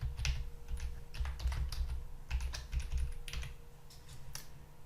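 Quick bursts of keystrokes on a computer keyboard as an activation code is entered, clicking in uneven clusters with short pauses, close and fairly quiet with no talking.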